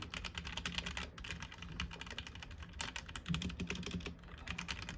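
Rapid, steady typing on a HyperX Alloy Origins Core mechanical keyboard, dense clacking keystrokes close up and continuous throughout with no talking.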